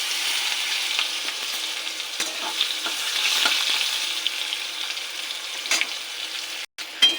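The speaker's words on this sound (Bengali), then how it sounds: "এবার পটলটাকে ভেজে নেব।" Pointed gourd sizzling in hot oil in a pan, a steady, fairly loud crackling hiss nearby with a few brief pops and a short gap near the end.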